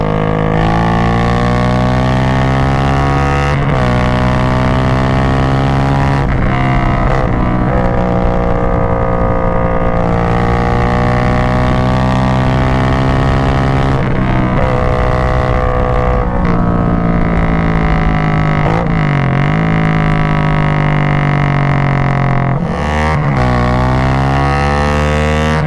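Very loud Honda Grom motorcycle with a swapped 300 engine, droning continuously at close range, its pitch climbing and dropping through repeated gear shifts and throttle changes.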